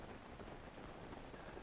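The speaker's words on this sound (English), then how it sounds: "It's just hard to see because of the rain." Steady rain hissing across the landscape of The Legend of Zelda: Breath of the Wild, a dense even wash of drops near the Lost Woods, continuous and fairly soft with no voices.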